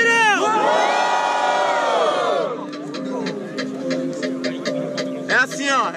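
A loud crowd cheers, whoops and shouts at a Brazilian freestyle rap battle, the Batalha dos Estudantes in Guarulhos, a dense roar that swells at the start, holds, then settles into scattered claps and yells before surging again.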